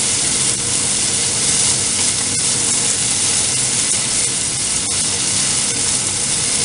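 Beef pieces fry until brown in a pan for spaghetti carbonara, giving a steady, close, loud sizzle and hiss with a few faint clinks of a utensil, and no talking over it.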